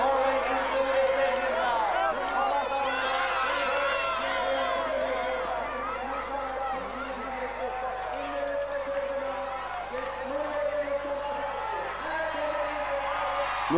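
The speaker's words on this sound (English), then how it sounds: "receive the applause from the thousands of Norwegian spectators who have come to support him" Thousands of Norwegian spectators at a ski stadium in Lillehammer cheer and whoop during a men's 4x10 km relay, a broad, steady crowd roar that continues under a commentator's voice.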